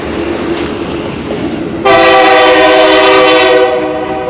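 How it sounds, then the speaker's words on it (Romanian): Train near Machu Picchu in Peru rumbles past nearby, then sounds a loud, sustained horn blast for close to two seconds over the steady rolling noise of the rail cars. "Nu, e trenul pe bune."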